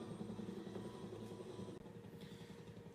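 Helicopter flying in the film Star Trek IV, a steady low rotor thump and engine drone, fairly faint and continuous with no talk.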